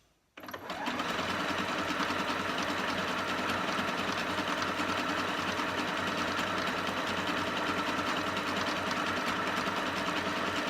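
A Singer 8500Q sewing machine runs a scallop stitch with a steady, smooth, fast mechanical whir that starts abruptly and holds at constant loudness throughout, close and with no voices.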